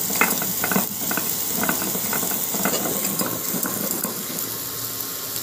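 Whole spices sizzle and crackle in hot oil in a pan for a sweet-sour raw mango pickle with jaggery, stirred with repeated scraping strokes over a constant close frying hiss.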